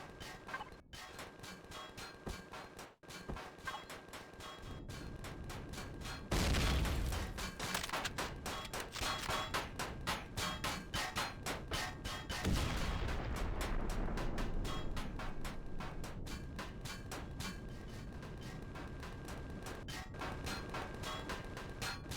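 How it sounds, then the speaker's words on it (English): Spaceship guns in Empyrion fire in a long, rapid, continuous stream of crackling shots layered over a heavy rumble, growing denser and louder after a few seconds and holding steady. "Okay, I have no idea what my ship is shooting at."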